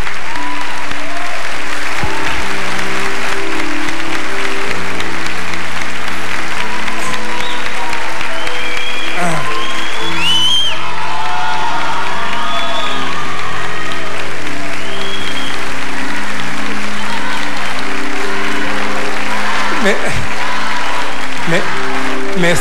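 Loud, sustained applause from a television studio audience at the opening of a grand music show, dense clapping filling the space throughout, with music and voices layered over it.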